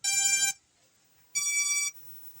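A KF101 Max-S professional drone powering on gives two loud, high electronic beeps about a second apart, each lasting around half a second, with near silence between them.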